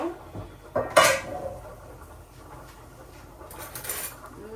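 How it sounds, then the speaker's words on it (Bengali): A spoon scraping and clanking against a metal pot while biryani is stirred, with a sharp burst of metallic clatter early on, then quieter scraping and a few later knocks, close by. "এখন ভালোভাবে নাড়াচাড়াটা মিশাই দিই"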